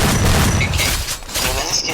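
Gunfire in the Free Fire battle royale game, played on a Poco X3 Pro during a championship match: a dense, booming run of shots with low rumble, steady and fairly loud throughout, with no talk over it.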